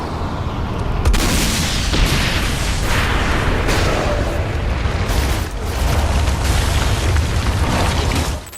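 Video game explosions from Saints Row fill the mix with loud, continuous booming and crackling blasts and dense rumbling debris, heavy throughout with only a brief dip partway.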